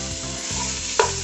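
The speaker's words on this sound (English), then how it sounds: "Add your beef once the onions are semi-clear." Beef dropped into a pot of semi-clear onions, frying with a steady close hiss and a brief louder sizzle burst near the end, with soft stirring underneath.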